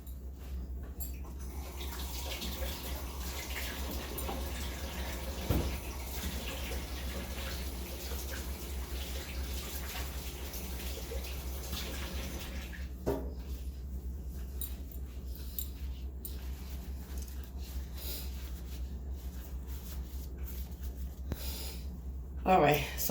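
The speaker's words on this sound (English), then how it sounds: "I'm going to wash these gloves." Kitchen tap water running over gloves being washed during cooking, a steady, fairly faint hiss lasting throughout, with a few small knocks and a louder splash near the end.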